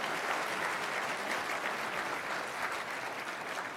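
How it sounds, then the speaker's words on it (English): Audience applause at a live political party leadership debate in an expo centre in Edmonton, a dense steady wash of many hands clapping throughout, loud and continuous without pause. "We can have a little round of applause at this point."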